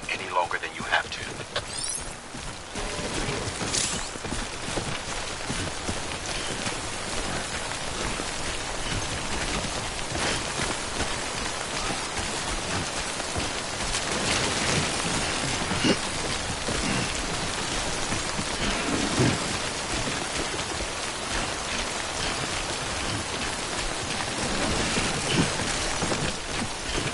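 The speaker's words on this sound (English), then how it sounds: "Don't stay out in the rain any longer than you have to." Dense, steady rainfall in a video game, the corrosive timefall rain, patters continuously and fairly close for the whole stretch, with a few sharper splashes and a voice speaking over it at times.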